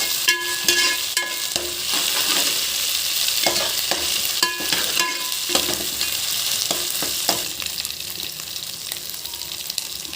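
Egg ponganalu curry frying and being stirred in a pan, with a steady loud sizzle and repeated scraping strokes of a spoon throughout, no talking.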